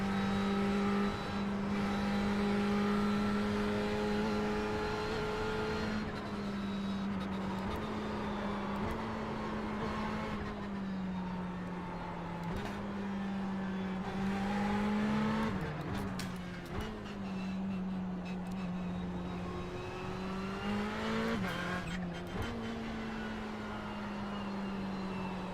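A Ferrari 488 GTB at Silverstone circuit, heard from inside as the engine holds a loud steady drone, rising and falling through gear changes and lifts with occasional dips, constant for the whole run.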